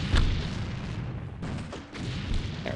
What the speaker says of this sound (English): I would like someone with an explosive cannon to open this area up a little bit for us